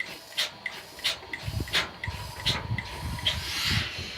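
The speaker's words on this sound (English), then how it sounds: "When I shut off my power, you can hear the suction slowly going down." After the power is cut, a cow milking machine's suction fades in a series of hissing, sputtering puffs that come at intervals and slowly lose strength.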